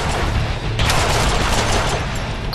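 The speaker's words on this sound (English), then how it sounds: "I am shooting you!" Dense, continuous gunfire from the Deadpool video game fills the whole stretch as a loud, sustained roar that thickens partway through, with no talking.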